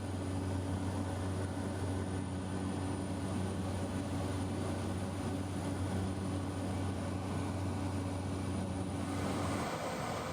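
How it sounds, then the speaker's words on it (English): Steady, loud engine drone inside an aircraft cabin as the plane lands at the Arusha airstrip in Tanzania, a constant low hum with a tonal whine that drops away near the end. "The flight is landing to the airstrip of Arusha."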